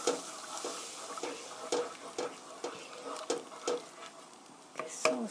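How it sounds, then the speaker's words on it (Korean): A spoon stirs broccoli cream sauce with milk in a pan, giving repeated light scraping strokes in an uneven rhythm under a faint simmer, close by with no speech. "이렇게 골고루 저어가면서"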